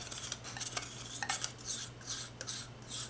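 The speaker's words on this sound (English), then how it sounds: "either end of the spoon, I can scrape out the colors" A spoon scrapes and taps at colours in melt-and-pour soap, giving light clinking and scraping in short bursts over a low steady hum, close and quiet.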